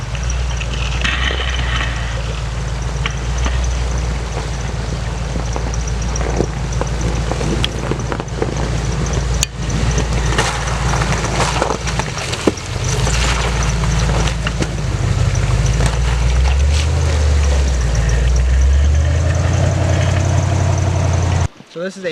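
A 5.2 liter Dodge V8 from a 1999 Ram 1500, swapped into a Jeep Wrangler TJ on 35-inch tires, idles with a low steady rumble and some wind noise on the microphone, and the engine speed shifts later on.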